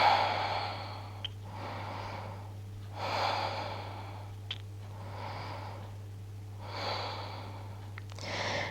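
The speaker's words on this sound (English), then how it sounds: "Let's take a few deep breaths here." Slow, deep breathing during a Pilates spinal twist on a mat, with three long, audible breaths rising and fading at a steady, relaxed pace over a low steady hum.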